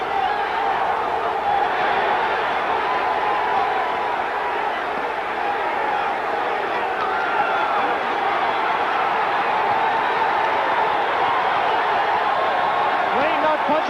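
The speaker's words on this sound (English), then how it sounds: "Crowd trying to pick Whitaker up." A boxing arena crowd roars steadily for fighter Pernell Whitaker, forming a dense, continuous wash of cheering and murmur at even loudness throughout, heard at a distance with commentary over it.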